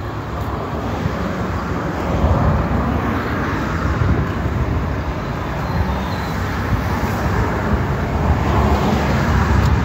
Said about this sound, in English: Traffic noise and all that.